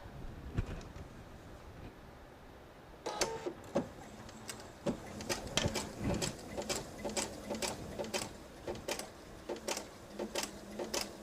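A domestic sewing machine stitches starter fabric in short, quick bursts with pauses between them. The whirring runs are close and fairly quiet and come in an irregular rhythm, with no one talking.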